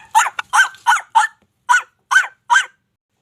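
A person imitates dog barks, giving seven short, sharp woof-like yaps in an uneven rhythm, close and clear against silence.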